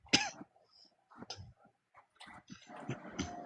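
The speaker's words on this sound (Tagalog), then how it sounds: "may ubo ako ha, baka magtaka kayo. Matagal na itong ubo ko." A man with a lingering cough gives several sharp, close coughs and throat-clears, spaced irregularly with quiet gaps between them.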